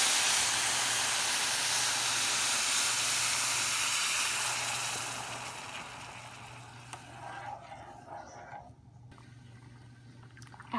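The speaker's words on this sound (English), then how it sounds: "After browning your rice, go ahead and add hot water to your pan to boil it." Hot water poured into a pan of browned rice, a loud broad hiss and sizzle that gradually dies down to a quieter bubbling simmer.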